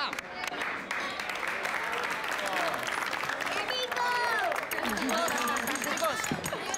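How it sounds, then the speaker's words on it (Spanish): Applause for the cook breaks out among a group gathered at a meal, lively clapping mixed with cheering and overlapping voices and chatter throughout. "Un aplauso para la cocinera."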